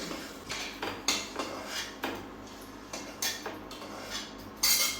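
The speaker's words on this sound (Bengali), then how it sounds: "এখন আলু টুকরাগুলো আমি একটা পাত্রে তুলে নেব" Fried potato pieces scraped and lifted out of a pan into a bowl, with a series of sharp metal-on-metal clinks and clatters of a spoon against cookware, close and irregular, with no talking.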